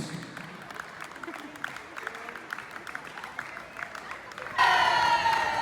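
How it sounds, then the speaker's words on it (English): A crowd claps and cheers for the back-to-back champion Netherlands women's wheelchair basketball team at a trophy ceremony; the applause holds steady, then loud music abruptly swells in near the end. "Big round of applause to our champions, back-to-back Team Netherlands."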